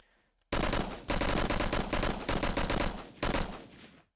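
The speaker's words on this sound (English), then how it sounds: "this is the assault rifle." Bursts of assault rifle fire from the Halo 2000 E3 build, loud and close, with several sustained volleys separated by short pauses and no talking.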